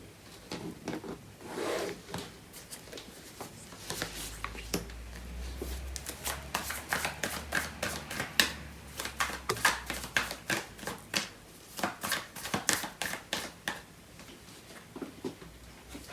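A deck of tarot cards is shuffled steadily by hand, giving dense, rapid riffling and flicking bursts that build through the middle and continue crisply toward the end, with a low hum underneath.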